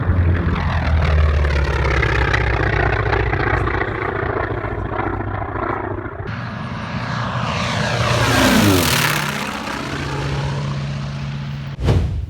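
A North American T-28 Charlie with a 9-cylinder radial engine of 1,425 horsepower roars past, a loud throbbing propeller drone that swells and sweeps downward in pitch as the aircraft passes close by.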